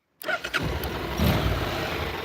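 A car engine cranks briefly and catches, then settles into a steady, close idle rumble.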